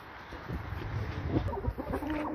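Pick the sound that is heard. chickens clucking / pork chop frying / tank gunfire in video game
chickens clucking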